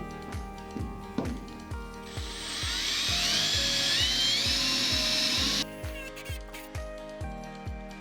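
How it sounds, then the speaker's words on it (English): A power drill whines up to a sustained high-pitched bite into a school bus's metal roof for a few seconds, framed by a steady series of rhythmic clicking ratchet-like knocks. "I'm going to cut or drill 4 holes in the corners"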